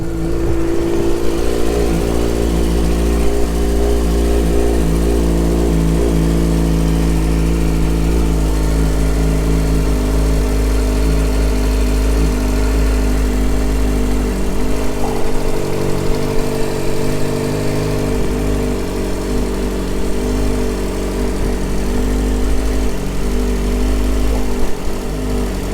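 A Yamaha R6 sport motorcycle engine runs steadily at idle with its fuel pump working, a constant close, loud mechanical drone with a stable low hum throughout and no speech.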